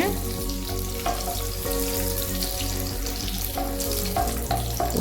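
Raisins fry in ghee in a pan for mango kesari, a steady, close crackling sizzle that runs unbroken throughout with a few sharper pops and no talking.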